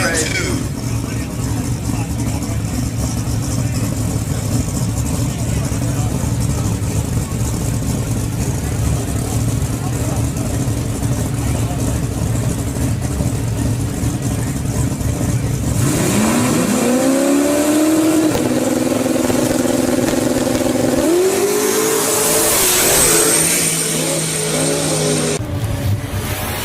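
Drag race cars launching and accelerating down the strip in a no-prep race, a deep steady engine drone giving way to sharp revving and rising shifts, loud and close with people talking throughout.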